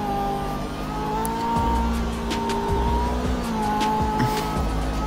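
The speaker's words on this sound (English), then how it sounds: "Well, I mean, Ferrari, it's gonna do very well in the corners" A Ferrari supercar drives hard through corners, its engine droning loudly with rising and falling whines and brief tire squeals across several seconds.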